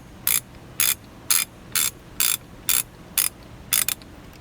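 A ratchet with a 1/2-inch drive socket turns a bolt off the steering column of a Land Rover Range Rover L322, giving eight crisp, evenly spaced clicking bursts, close up and with no talking.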